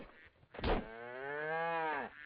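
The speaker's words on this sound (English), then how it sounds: "It's a cow." A cow in the Survivalcraft video game lets out a single drawn-out moo, loud and close, with a rising then falling tone lasting about a second and a half, with no other sounds.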